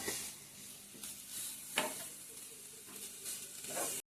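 Onion sizzles steadily in a pan while a spoon stirs it, adding occasional scraping knocks over the constant soft frying hiss.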